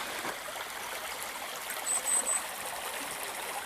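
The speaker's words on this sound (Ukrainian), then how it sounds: "Так ось тече цей потічок." A forest stream flows past lying ice in winter woodland, a steady, close rushing and trickling wash of water that holds even throughout, with a slight swell near the middle.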